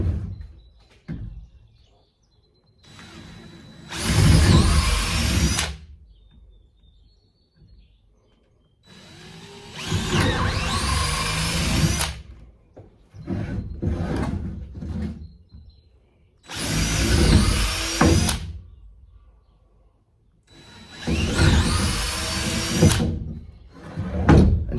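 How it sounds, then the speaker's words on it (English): A power drill whirs in four separate bursts of about two seconds each, drilling holes for a truck bed camping build, with quiet pauses and faint handling noises between them. "now we're just going to drill holes down through this."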